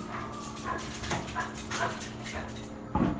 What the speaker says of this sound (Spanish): los perros andan corriendo.